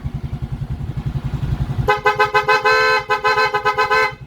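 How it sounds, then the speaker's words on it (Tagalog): A motorcycle engine idles with a throbbing putter, then a loud TDD Night Crawler horn blares in rapid repeated bursts, close by, continuing over the engine. "Yan, busina tayo."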